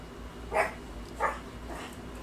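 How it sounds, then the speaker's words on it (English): A rambunctious dog barks twice in a room, fairly faint, with a gap between the barks and low background hum, a softer third sound trailing after. "Sorry about my rambunctious dog."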